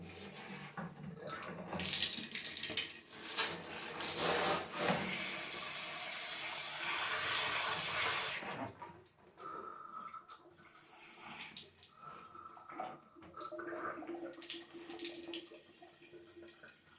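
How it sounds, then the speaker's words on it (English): Water gushes from a tap into a container for several seconds, then stops, followed by softer trickles, clinks and handling noises. "we will just fill in the water here"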